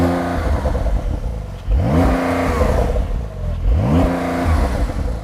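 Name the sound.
car engine started and revved with sports exhaust system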